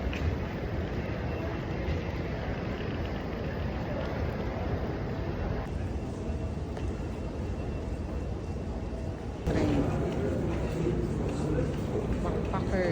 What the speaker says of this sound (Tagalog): dito na kami sa loob ng tren going to Whitechapel Station